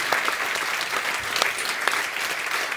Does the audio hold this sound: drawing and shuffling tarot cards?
no